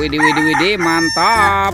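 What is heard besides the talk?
rooster crowing sound from a toy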